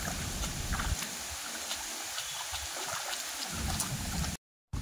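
Water streams through an irrigation channel in a Konkan rice paddy, a continuous broadband gush and gurgle heard close, steady throughout, cutting out briefly near the end.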